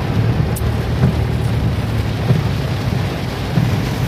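Heavy rain pours during Typhoon Carina flooding in Metro Manila, a loud steady roar of rainfall with occasional low rumbles and thumps, heard from close by without speech.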